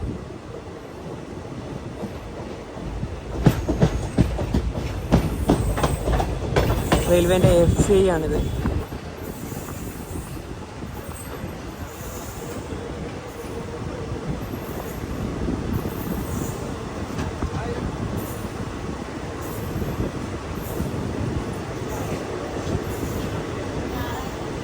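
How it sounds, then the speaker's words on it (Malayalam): A passenger train pulls into Nileshwaram railway station with a rising rumble, clatter and brief squeal of wheels, then settles into a quieter idle amid platform noise, with someone talking over it. "ട്രെയിൻ അങ്ങനെ നീലേശ്വരം റെയിൽവേ സ്റ്റേഷനിലേക്ക് എത്തിയിരിക്കുകയാണ്"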